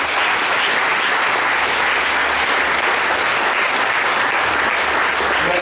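A church congregation applauds during a French-language Sunday worship service, a loud, dense and steady wash of many clapping hands sustained for several seconds without pause.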